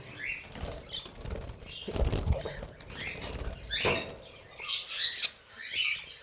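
Mixed breeding pairs of birds in an aviary flap their wings in repeated sharp flurries and give harsh squawks, close by and fairly loud, with brief quiet gaps between bursts.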